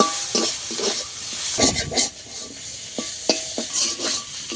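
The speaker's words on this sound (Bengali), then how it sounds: "আদা জিরে ভালো করে আবারও তেলের মধ্যে ভেজে নেব চিংড়ি মাছের সঙ্গে" Ginger and cumin fry in hot oil with prawns for a bottle gourd curry, giving a steady close sizzle broken by repeated scraping and clinking stirs of a utensil against the pan.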